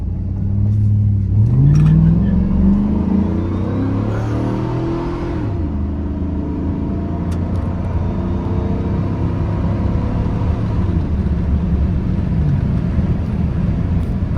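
A 2006 GMC Sierra 1500 regular cab pickup with a 5.3L V8 accelerating, a loud deep engine rumble rising in pitch early on, then a steady cruising drone with road noise throughout.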